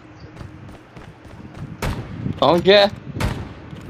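Gunfire exchange in the military shooter video game Squad: a few sharp, loud shots and a short burst ring out over a low battlefield rumble, with someone speaking briefly between them.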